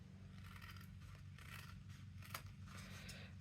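Scissors snip away excess fabric bulk from a sewn fabric purse wallet, giving a series of quiet, close cuts and crisp scraping snips over a steady low hum, with no talking.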